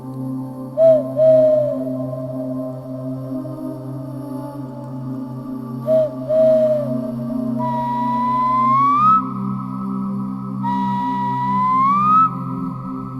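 A person whistles wildly in a forest on a September evening to imitate birds, giving several sliding, warbling whistle phrases that rise in pitch, loud and close over a low steady hum.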